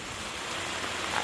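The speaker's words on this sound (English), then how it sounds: "that rain I said was coming" Rain falls outdoors as a dense, even hiss of drops, loud and continuous for the whole moment, with no voices.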